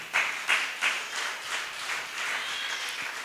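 A church congregation claps in a few sharp bursts at first, then settles into a softer, sustained round of applause with no voices over it.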